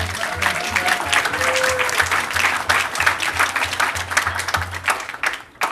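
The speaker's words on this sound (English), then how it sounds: "Can we give her a round of applause?" An audience at a commission meeting claps for the employee of the month, a full round of dense applause that holds steady and then thins out near the end, with faint murmurs underneath.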